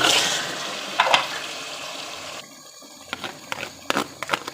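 Over two kilograms of raw chicken is tipped into a pot of frying spices for a biryani, giving a close, wet sizzle and splash that quickly settles into softer bubbling with a few faint knocks.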